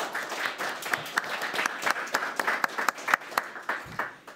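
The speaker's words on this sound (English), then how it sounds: "A round of applause, please." Applause from the audience at a Democratic town committee candidate forum, a moderate room of people clapping with distinct individual claps audible, keeping an uneven steady patter for several seconds.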